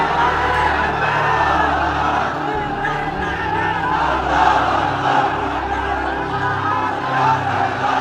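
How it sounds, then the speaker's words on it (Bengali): A large crowd at an Islamic sermon gathering chants takbir, many voices roaring together in a loud, sustained, echoing shout that fills the hall. "তাকবীর দেন তো একজন আওয়াজ করে।"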